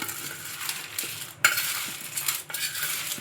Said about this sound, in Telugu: ఇంకా ఇప్పుడు ఒకసారి మొత్తం మీద స్పూన్తో అయితే కలుపుకోవాలి